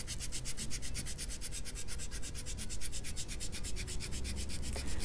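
Steady rhythmic strokes of 360-grit sandpaper rubbing across a guitar fingerboard during a position-mark replacement, close and even, a continuous scratchy back-and-forth with no talking.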